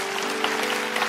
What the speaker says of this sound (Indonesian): Oh, yang percaya kasih tepuk tangan.